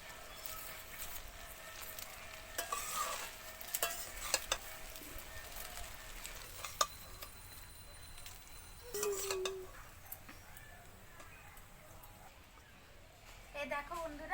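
Chow mein sizzling in a pan as an egg is added and stirred in, with a soft, steady frying hiss and occasional clinks of a utensil, fairly quiet overall.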